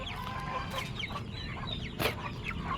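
A flock of backyard chickens clucks nearby, with overlapping soft clucks and short squawks over a steady murmur of birds, one brief louder burst near the end.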